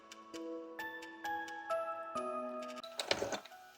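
A sewing machine drives its needle through ten layers of mid-weight denim, giving faint, irregular stitch clicks with shifting tonal whirrs and small hesitations, ending in a brief louder burst of mechanical rattle.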